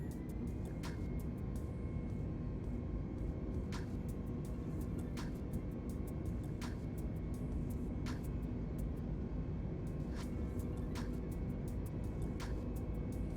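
Airbus A320 in Microsoft Flight Simulator 2020 holds a steady, dense engine drone throughout, with faint periodic clicks over the constant hum.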